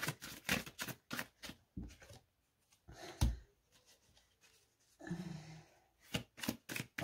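Tarot cards are handled and laid out on a table in a series of soft, quiet taps, slaps and rustles, with short pauses between them and no talking.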